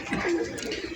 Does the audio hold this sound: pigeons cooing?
yes